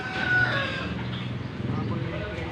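Chickens at a market stall cluck and crow close by, a rooster's call rising over steady clucking while people talk in the background.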